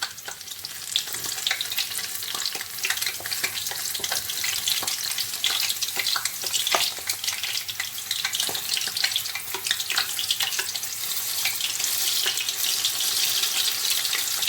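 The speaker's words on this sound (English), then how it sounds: "And I'll put in the oil again." Puff puff dough frying in hot oil for a Nigerian coconut puff puff recipe, a steady, dense sizzle and crackle throughout with small pops and faint utensil clinks, no talking.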